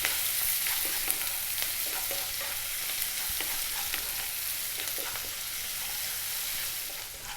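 Sliced onions fry with salt in a pan and are kept moving, making a steady bright sizzle with soft intermittent stirring clicks and scrapes, close and fairly quiet, with no talking.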